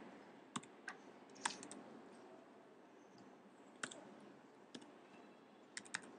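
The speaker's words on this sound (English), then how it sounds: "And I type in my password for my blog." Password typed on a computer keyboard: about a dozen sharp, separate key clicks in small clusters with pauses between, fairly quiet over a faint steady background hiss.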